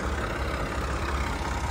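A tractor engine strains hard trying to pull a trolley stuck in a village field, a continuous loud low rumble with no talk over it.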